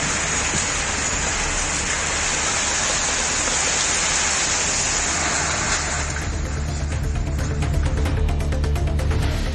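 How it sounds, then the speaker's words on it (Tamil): Heavy rain falls steadily in Sivaganga district, Tamil Nadu, a dense, loud, unbroken hiss of downpour, with individual drops pattering on a surface toward the end. "சிவகங்கை மாவட்டத்தின் பல்வேறு பகுதிகளில் பெய்த மழையால் வெப்பம் தணிந்தது"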